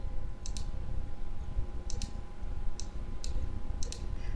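Mouse button clicks in Microsoft Access while editing a form, sharp isolated clicks in pairs and singles at irregular intervals over a steady low hum, close up and alone.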